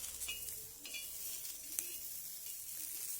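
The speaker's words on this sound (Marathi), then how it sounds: "छान अशा मिरच्या आणि लसूण भाजून घेत आहे" Green chillies and garlic roasting in oil on a tava, a faint, steady crackling sizzle with a few light stirring clicks, heard close and alone.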